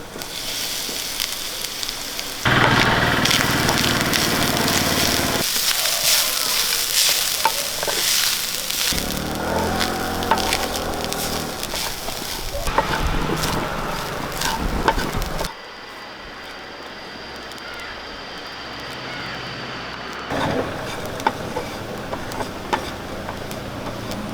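Grated coconut with cinnamon, cardamom and other whole spices roasting in a pan for chicken curry, a loud sizzle with scraping stirring strokes that comes and goes, then a quieter steady frying hiss.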